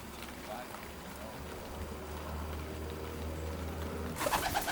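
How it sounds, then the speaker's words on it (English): Racing pigeons cooing in a small garden loft, soft low coos under steady background rumble, fairly faint, with a louder burst of bird sound near the end. "the stock birds are kept in a small, neat loft in the corner of the garden."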